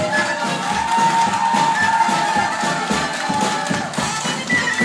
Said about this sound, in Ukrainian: Гості молодого оплески свекрусі.